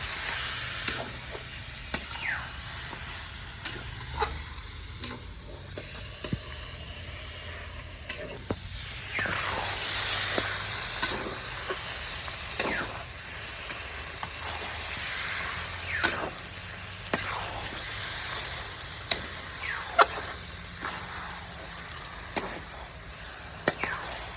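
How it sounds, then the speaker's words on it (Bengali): Mutton sizzles in a pan with melting tomato gravy as a spoon scrapes and stirs it over and over; a constant frying hiss runs throughout, broken by regular sharp scraping strokes, close by with no speech. "মাংস দিয়ে দেবো যে গ্রেভিটাকে ভালো করে মাংসের সঙ্গে কষবো ভালো করে একদম টমাটোগুলো সব গলে যাবে"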